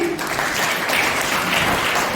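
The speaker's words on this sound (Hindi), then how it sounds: "सभी जोरदार तालियां बजाएंगे" Audience at a Brahma Kumaris summer camp gathering in Burhanpur claps loudly and steadily, a dense, even wash of applause that holds at full strength throughout.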